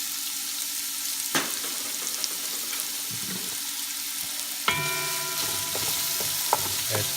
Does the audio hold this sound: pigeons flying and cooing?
no